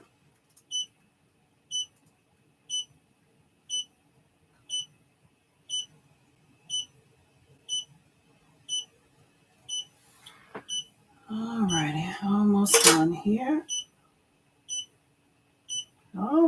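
An embroidery machine beeps in a steady, evenly spaced series of short high tones, with a brief burst of voices and rustling partway through.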